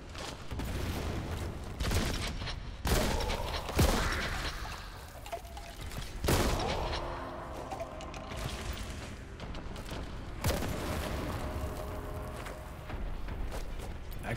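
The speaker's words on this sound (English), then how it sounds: "I threw a grenade. I did it again." Grenade blasts in the retro shooter Warhammer: Boltgun, several sharp booming bursts at irregular intervals with crackling debris tails over ongoing game noise, fairly loud and close, no speech.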